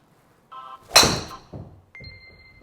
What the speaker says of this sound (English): Now let's take this in and hit a shot.